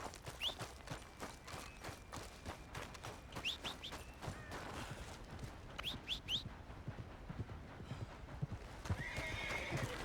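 Horse hooves clip-clop steadily on the ground in Red Dead Redemption 2, with several whinnies breaking through over a busy outdoor game soundscape, moderately close and continuous throughout.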